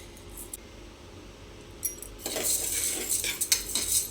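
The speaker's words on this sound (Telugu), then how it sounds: "ఎప్పుడైనా పప్పు కొంచెం వేయించుకోవాలండి" Lentils for tomato dal are dry-roasted in a pan, giving quiet scattered clinks at first, then a denser burst of scraping, rattling stirring and metallic clatter of utensil against pan for the last couple of seconds.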